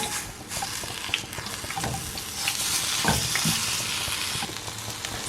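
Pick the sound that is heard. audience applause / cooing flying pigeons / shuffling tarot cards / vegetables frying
vegetables frying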